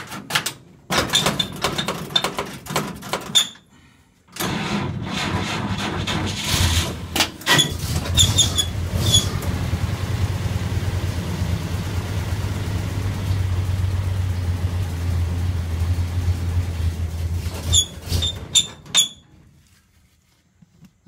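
A 1947 GMC truck engine cranks in short bursts, then catches and runs at a steady low idle for about ten seconds before stalling, with clunks nearby and no talk.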